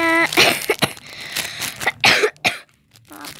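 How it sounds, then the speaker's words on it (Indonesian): A few sharp, close coughs come in short bursts with brief pauses between them, one trailing into a throat-clearing rasp. "Maaf, aku batuk."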